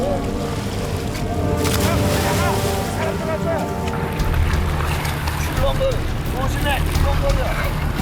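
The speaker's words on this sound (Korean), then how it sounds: "생각보다 파도가 훨씬 거세지고 있었다." Strong, rough sea waves churn in open water around swimmers crossing a strait, a loud continuous wash with wind and boat noise, under a voice speaking throughout.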